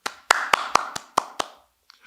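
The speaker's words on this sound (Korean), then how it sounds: "내가 방송하고 내가 박수 치고" One person claps by hand at the end of a live football broadcast, a short run of about eight sharp, close claps at an uneven pace that fade out.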